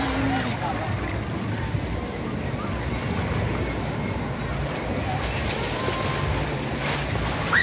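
Surf and ocean waves wash continuously on a beach at Matabungkay, a broad steady rush mixed with wind buffeting the microphone, with faint voices in the background.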